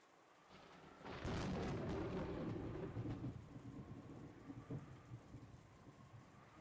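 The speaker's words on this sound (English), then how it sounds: "that last thunder was loud" A loud, close thunderclap breaks over steady rain, bursting suddenly and then rolling and rumbling away into the continuing downpour.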